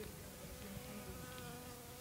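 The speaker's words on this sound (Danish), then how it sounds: "bierne finder dem, undersøger dem" Bees buzz around freshly opened flowers on a cold February spring day, a steady, soft, continuous hum of several insects close by, with no talk.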